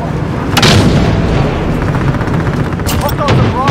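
Heavy gunfire and booming explosions from an aerial gunship in Call of Duty: Modern Warfare, dense and loud throughout with repeated blasts and brief radio-style voices mixed in.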